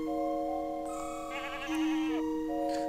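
A goat bleats in the video game Final Fantasy: 4 Heroes of Light, a clear, wavering synthesized cry over a looping game music backdrop with steady tones, near and distinct, with no talk.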